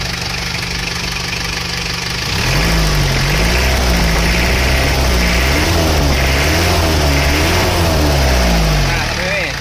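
A freshly serviced car engine idles, then revs up and holds with repeated rising and falling swells, loud and close throughout.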